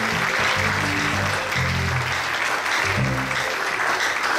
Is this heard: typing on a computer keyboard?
no